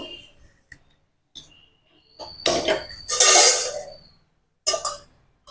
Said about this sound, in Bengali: কড়াই বসিয়ে দিলাম।